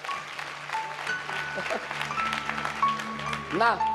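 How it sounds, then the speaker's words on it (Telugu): A church congregation claps for a brother at a meeting, a dense patter of applause with speech over it and a rising vocal sound near the end. "అందరూ ఒక చప్పట్లు కొట్టండి సహోదరుడి కోసం"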